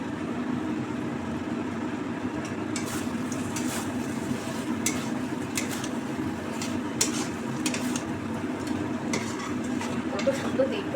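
Fried paneer being stirred into a cooked spice masala in a pan, a soft steady sizzle with light scraping and clicks of the spoon, fairly quiet and close, with someone talking intermittently.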